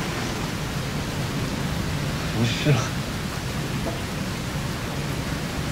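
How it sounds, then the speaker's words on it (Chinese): A sudden fall of rain makes a steady, even wash of noise throughout, with people talking briefly over it. "怎么突然下雨"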